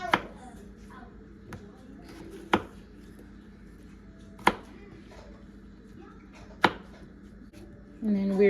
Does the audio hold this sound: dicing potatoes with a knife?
yes